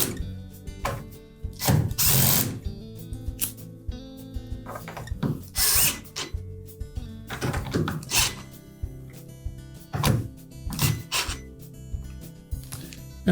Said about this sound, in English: Once we've done that, we'll go ahead and tighten those screws.